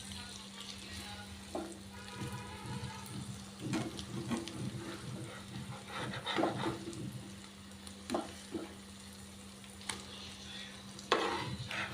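Eggs cook in a pan over a slow flame, a soft, low sizzle with spatula scrapes and clinks, a steady low hum underneath and occasional sharper knocks.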